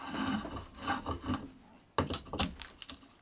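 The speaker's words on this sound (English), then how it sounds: "So as the bevel digs in, it pulls it down into your timber." A draw knife shaving timber bevel-down gives close, rasping scrapes in quick repeated strokes, one run of passes, a brief pause, then a sharper second run.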